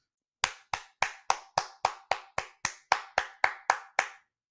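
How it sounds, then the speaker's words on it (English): Thirteen sharp hand claps land one after another at an even, deliberate pace. Each is loud and close, with a quick decay against silence, and no voices are heard. "Y'all get the hand clap"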